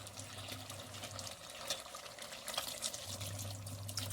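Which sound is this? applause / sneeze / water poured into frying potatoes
water poured into frying potatoes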